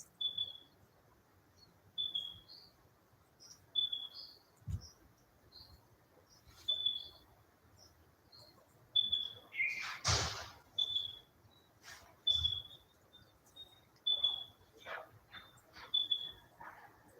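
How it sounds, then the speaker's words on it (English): Outdoor birdsong with one bird repeating a short high whistled note roughly every second, interspersed with other chirps and calls at moderate distance, plus occasional soft rustling. "So here I have an abundance of birds around me."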